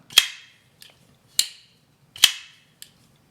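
A Shirogorov folding knife snaps open and shut on roller bearings, giving crisp, sharp metallic clicks: three loud snaps with two fainter ticks between them, close and isolated against near silence.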